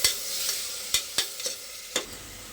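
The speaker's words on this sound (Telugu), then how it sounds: "మనం చేసి పెట్టుకున్న పేస్ట్ బాగా పచ్చివాసన పోయేంత వరకు బాగా ఫ్రై చేసుకున్నాను" Masala paste frying in a pan for a green pea curry with coconut milk, a soft continuous sizzle punctuated by several sharp spatula scrapes and knocks against the pan.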